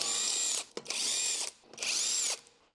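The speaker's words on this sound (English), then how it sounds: "Use the 17mm socket again to remove the wheel lug nuts." A power tool with a 17mm socket spins lug nuts off a Honda Civic wheel in three loud, close whirring bursts of roughly half a second each, split by brief gaps.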